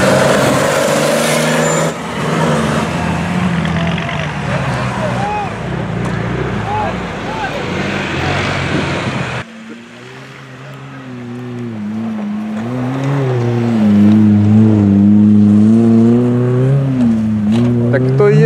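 A LuAZ and a much larger, heavier Nissan Patrol at an off-road club drag race, loud engines roaring and revving close by, pitch rising as they accelerate, with crowd talk in the background.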